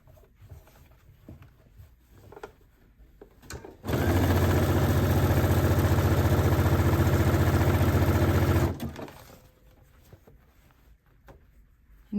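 Sewing machine stitching elastic onto fabric in one continuous fast run of about five seconds, a loud steady whirring hum with rapid needle patter, framed by quiet handling noise before and after.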